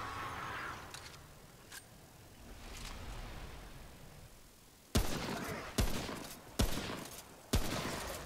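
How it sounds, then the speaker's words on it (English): Gunfire in the video game Remnant: four sharp, loud shots spaced under a second apart ring out after a stretch of quieter in-game ambience. "Yeah, I'm just taking pot shots."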